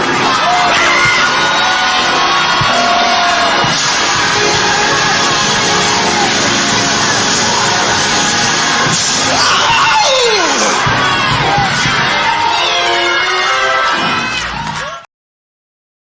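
A church congregation shouts, screams and cheers loudly in a dense, sustained wall of voices with whoops and yells rising over it, continuing for about fifteen seconds before cutting off abruptly.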